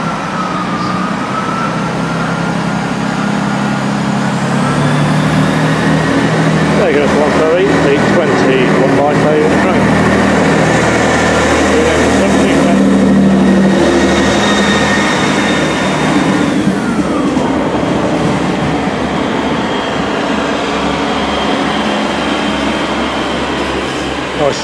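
A Class 67 diesel locomotive arrives at a Heart of Wales line station, a loud steady engine rumble and rolling noise filling the whole stretch with a rising whine in the middle, while a person talks over it.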